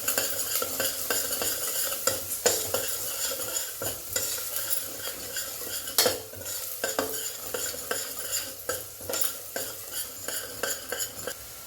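Onions with asafoetida sizzle in a hot pan while a spoon stirs and scrapes steadily, with frequent clicks of the utensil against the metal throughout, close and fairly loud with no talking.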